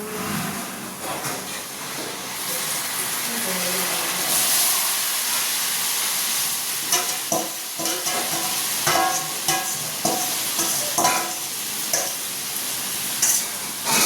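Marinated mutton frying in a pan in a home kitchen hisses steadily and strongly, joined partway through by a run of sharp clicks and scrapes as it is stirred.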